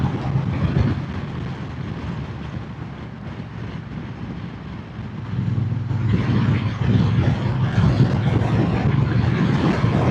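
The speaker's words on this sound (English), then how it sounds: "A few cars coming down the hill in the distance there." Cars coming down a hill in the distance on a Scottish Highland road, a low broadband traffic rumble that swells partway through, with wind noise underneath.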